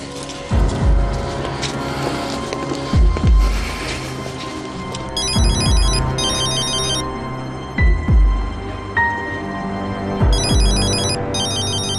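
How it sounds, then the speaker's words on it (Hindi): A phone ringtone plays repeatedly in a steady electronic melody, fairly loud and close, with a few dull thumps underneath. "एडम कॉल कर रहा है।"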